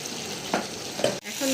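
A potato, pea, papaya and green chili filling sizzles in a pan, a soft steady frying hiss with a couple of brief stirring scrapes and a clunk near the end.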